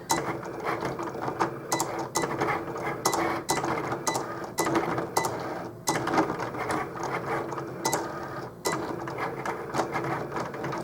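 A Cricut cutting machine works through a small design, giving off a steady run of ratcheting, geared mechanical whirs with sharp clicks at a brisk, uneven rhythm, close and fairly loud with no talking.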